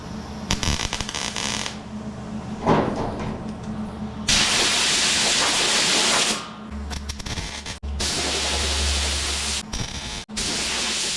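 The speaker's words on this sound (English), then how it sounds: "The metal cools back down pretty quickly after you hit it with air." Compressed air hissing in long loud blasts onto hot welded metal during rust repair on a Willys truck bed, close up, with brief pauses and a low rumble between bursts.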